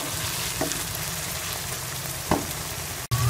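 Chicken and spinach cook in a pan on the stove with a steady, close sizzle, broken by a couple of faint stirring scrapes and a sudden bump near the end.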